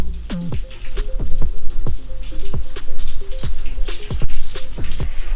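Rain falls by the water on a Sardinian morning, with large drops splashing and dripping onto a hard surface close by. The plinks are loud and irregular, over a soft wet background.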